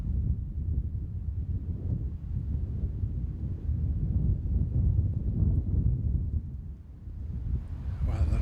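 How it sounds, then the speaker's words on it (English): Steady low rumbling wind buffets the microphone throughout outdoors in Kansas, a continuous blustery roar with a brief lull near the end. "It's still windy"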